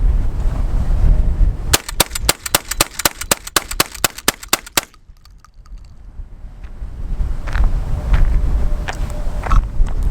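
A Girsan MC312 semi-auto shotgun with a 3.5-inch chamber fires Federal 2 3/4-inch, 1 1/8-ounce trap loads in a fast string of about a dozen sharp, loud outdoor shots, then falls to quiet wind and rustle.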